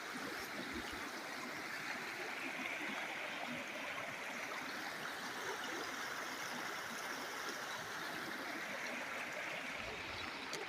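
A muddy river flows below a nature walk path, a faint, steady rushing wash heard from a distance with no voices.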